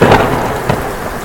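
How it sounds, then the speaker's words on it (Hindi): A sudden storm breaks in a Hindi animated story, heavy rain hissing steadily with a dull rumble of thunder and a brief sharper crack near the middle, loud and close throughout. "अचानक से ये तूफ़ान कहाँ से आने लगा?"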